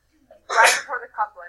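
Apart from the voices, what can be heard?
sneeze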